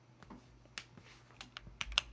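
A few quick keystrokes on a computer keyboard, the backspace key pressed during voice-to-text use on Windows, give soft, near clicks at an irregular pace that end in a slightly sharper pair of taps.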